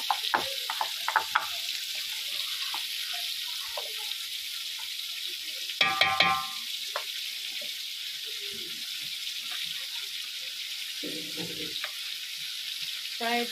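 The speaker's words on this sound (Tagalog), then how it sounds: "Chicken. And garlic. So, let it fry." Chicken and garlic frying in a pan, a steady broadband sizzle running throughout with occasional stirring clatters and brief utensil knocks, close and moderately loud.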